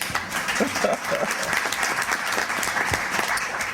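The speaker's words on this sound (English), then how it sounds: "Big round of applause for him." An audience at a debate breaks into steady, moderately loud applause welcoming a speaker, continuous clapping throughout with a few voices underneath.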